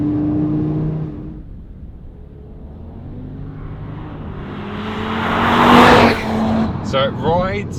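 Audi RS 3 four-wheel-drive hatchback on UK roads, its engine rumbling low and then building to a louder revving surge as it accelerates, with someone talking over it.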